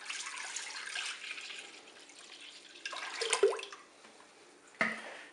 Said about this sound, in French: Je vais commencer par verser mon lait dans la cuve.